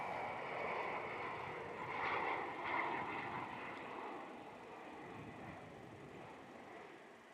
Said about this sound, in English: Here goes our Qantas Link 717 heading to Newcastle here off runway 34 at Melbourne